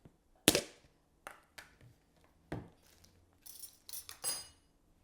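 A spoon or utensil knocks and scrapes against a bowl while sour cream is mixed into mashed potatoes, giving a few sharp clinks and taps spaced irregularly, close and fairly quiet, with no talking.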